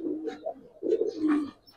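Giribaz silver lalpatti pigeons coo nearby in soft, low, throaty calls, two or three warbling phrases in quick succession with no talking.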